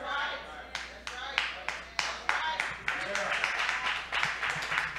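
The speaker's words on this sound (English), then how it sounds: "You don't got to clap." An audience claps in a church or lecture hall, a steady patter of many hands with sharper individual claps, at moderate distance and without a voice over it.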